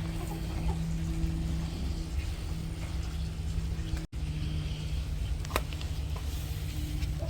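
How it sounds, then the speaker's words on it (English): Backyard chickens kept alongside ducks cluck softly and intermittently on a Florida farm, over a continuous loud hum of background noise with a brief dropout midway. "introduce you guys to some of our chickens and ducks that we have, and they're just hanging out right now"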